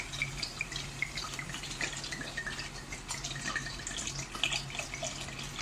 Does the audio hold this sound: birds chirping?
no